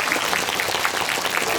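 Audience applause sending off the film's actors at a Korean movie talk event, steady dense clapping filling the hall throughout the short stretch.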